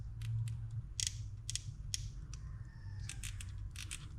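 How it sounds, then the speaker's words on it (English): Quick mechanical clicks from a Piscifun Alijoz 400 XH baitcaster reel's drag, irregular bursts of ratcheting ticks close up over a low background hum. "When you're going down from 10, it's got a louder click than going up."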